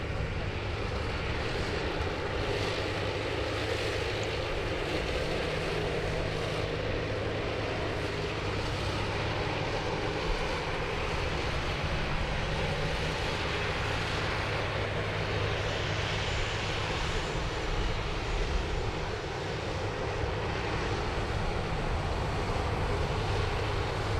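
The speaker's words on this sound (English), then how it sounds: "our next departure is almost on her way. United Airlines flight 842 heading to Los Angeles" United Airlines flight 842 departing Sydney Airport for Los Angeles makes a continuous low, distant jet engine rumble with an even, sustained drone and no voices.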